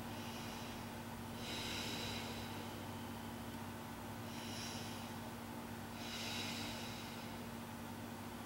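Slow, deep conscious breathing during a yoga stretch, three long soft breath swells spaced a couple of seconds apart over a quiet steady hiss, close but faint.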